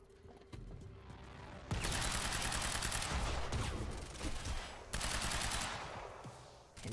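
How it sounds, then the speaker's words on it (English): Gunfire in Quantum Break rattles in long, dense automatic bursts that start and stop abruptly, fairly loud, with a brief pause between two sustained volleys. "He was just over there shooting at me."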